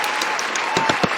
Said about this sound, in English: So give a round of applause, everybody.